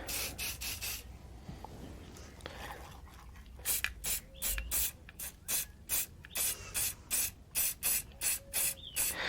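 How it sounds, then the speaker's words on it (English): Rust-Oleum flat black primer sprayed from an aerosol can onto a walnut slab: a rapid series of short, hissing bursts, about a dozen evenly spaced sprays, close and fairly loud, after a few earlier bursts and some faint rubbing. "And we're just very carefully going to spray."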